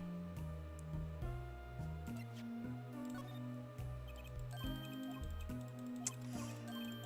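Quick, light mouse clicks tick away in rapid succession while skipping dialogue in Apollo Justice: Ace Attorney, faint beneath the game's melodic background music.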